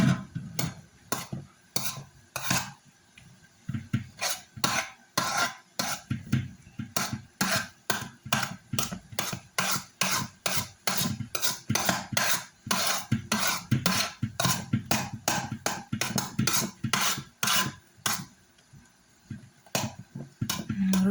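Cake cream whisked by hand in a bowl, a brisk run of sharp metallic clicks and taps against the bowl in an uneven rapid rhythm, close and alone with brief pauses.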